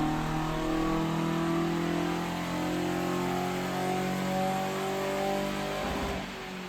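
A car fitted with a 2-litre Pinto engine runs a steady, loud revving pull on a rolling-road dyno, the engine note holding strong and climbing before easing off near the end.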